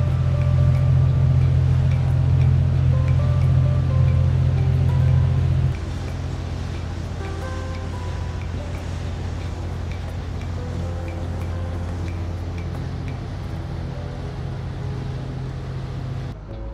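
A boat cruising on Lake Como, its engine holding a steady low drone throughout that drops slightly in level after about six seconds, with faint wind and water noise around it and no talk.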